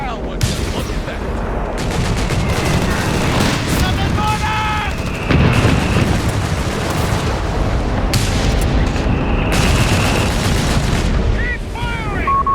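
Dense, loud battle noise from Company of Heroes 3 in a 4v4 match, with a bombing run against a tank: booming explosions and rapid gunfire layered over a constant rumble, with game voices calling out between blasts.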